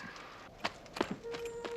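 A few scattered hoof clops at a distance, faint and irregular over quiet outdoor background noise.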